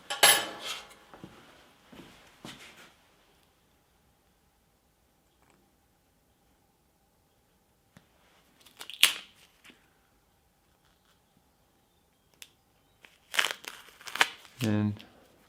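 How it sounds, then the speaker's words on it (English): Teflon tape is cut and handled during a workshop inspection and oil change on a Pullmax P13 machine, heard as brief crinkling and snipping bursts separated by quiet gaps. "And now I will just cut the Teflon tape."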